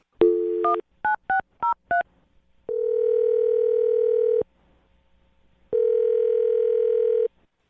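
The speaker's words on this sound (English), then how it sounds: "I'm going to dial her phone number right now and see if we can figure out why she isn't calling you back." A telephone is dialed with a quick run of six keypad tones, then two long, loud electronic ringback tones separated by a brief silence, with no one talking.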